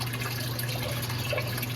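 Water poured or pumped into an engine's coolant system during a head stud job, a steady close rush and trickle of liquid with a constant low pump hum beneath, no talking.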